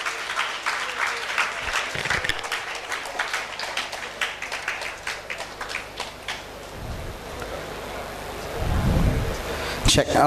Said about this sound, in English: Thank you, friends, for that big round of applause.